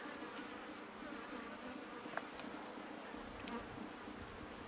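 Honey bees buzz around an open hive with honey and brood frames, a faint, steady hum of many insects close by, with a few louder passes as individual bees fly near.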